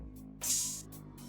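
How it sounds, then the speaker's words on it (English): A short hissing open hi-hat sample bursts in, sizzles briefly and fades, over a faint low background tone. "I added this open hat, also from the kit,"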